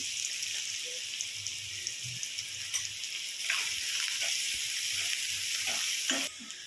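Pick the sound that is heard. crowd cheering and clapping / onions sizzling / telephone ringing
onions sizzling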